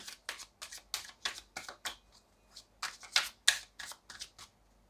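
Playing cards are shuffled by hand in a quiet room, a quick series of crisp riffling bursts and soft snaps, close and clear with no voices.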